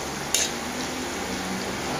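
Purple potato fries bubble and sizzle in hot oil while being stirred in a pan, a steady hiss with one sharp utensil clink near the start.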